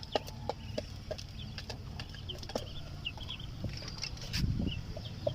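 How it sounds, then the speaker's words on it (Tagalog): Native chickens cluck and call intermittently in an outdoor yard behind a house, with brief bird chirps over a steady low background rumble. "ito yung ating mga native na manok"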